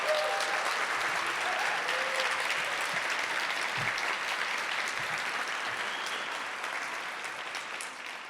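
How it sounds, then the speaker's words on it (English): Steady, even audience applause after an instrumental performance by qanun and other Eastern instrument players at a memorial lecture, continuous clapping from a large crowd that slowly softens toward the end. "Please give them a round of applause."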